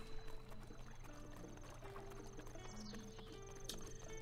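Horse hooves clip-clop in the Zelda Breath of the Wild video game, a faint rhythmic trot under game music and ambient tones, with no talk.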